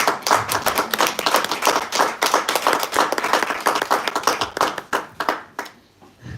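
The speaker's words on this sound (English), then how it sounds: "Let's give you a round of applause." A workshop audience gives a close, lively round of clapping with individual hands distinct and rhythmic, which tapers off and dies out near the end.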